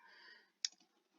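A single quiet computer mouse click, sharp and isolated, taken while opening a file in a code editor; a faint trailing tone fades out just before it.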